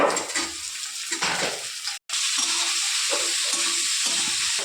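Onion and chopped capsicum fry in a pan with a loud, continuous sizzle, broken by a few rhythmic stirring scrapes and a brief near-silent gap in the middle.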